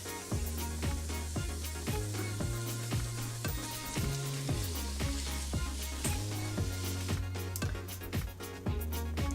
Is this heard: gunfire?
no